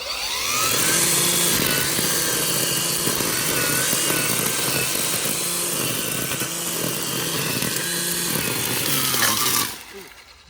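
A Ryobi 40V 15-inch cordless string trimmer runs at a steady high-pitched whine, close and loud, with slight load changes as it cuts, before winding down at the very end.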